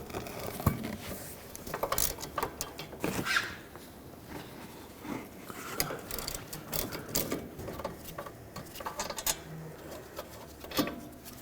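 A hand ratchet working 13mm caliper bracket bolts off the rear knuckle of a 2007-2009 Saturn Aura, heard as quick, close clicking bursts and metallic knocks in uneven spurts, with no talk.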